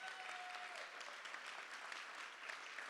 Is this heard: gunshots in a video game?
no